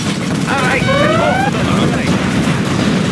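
Quad cannon gunfire in the real-time strategy game Command & Conquer Generals Zero Hour, a loud continuous barrage of rapid shots layered under steady battle noise.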